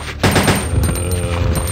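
Rapid pistol fire in Resident Evil 2, a loud burst of close shots cracking in quick succession after a brief lull, with echoing tail.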